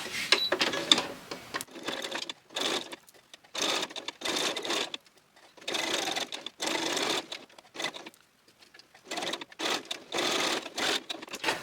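A sewing machine stitches a scrunched fabric snippet roll in rapid, steady runs of mechanical whirring, starting and stopping repeatedly with short pauses between bursts, close and clear.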